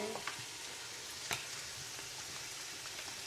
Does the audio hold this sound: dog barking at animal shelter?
no